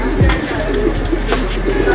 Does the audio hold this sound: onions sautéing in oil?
no